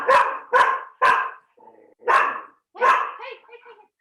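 A dog barks sharply five times in an irregular burst at close range, with a softer whine or yelp trailing off after the last bark, no one talking.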